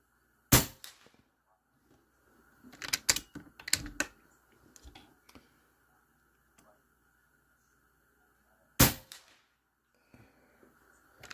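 An Air Venturi Avenge-X PCP air rifle, filled to high pressure, fired at a 50-yard target. Sharp, loud isolated cracks come several seconds apart, with quieter clicks and handling noises between shots.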